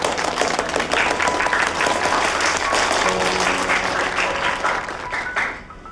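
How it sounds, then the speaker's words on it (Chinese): A classroom of students bursts into loud, sustained applause, dense clapping filling the room for several seconds before tapering off at the end. "鼓掌。"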